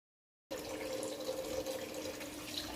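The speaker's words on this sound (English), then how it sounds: "I'm going to add back some more water" Tap water runs steadily into a bowl for washing chicken thighs, starting abruptly and then pouring in a constant, soft, close rush with no talking.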